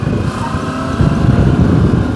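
A Benelli X-Cape 650 motorcycle on the move gives a steady low engine rumble mixed with wind buffeting, growing slightly louder partway through.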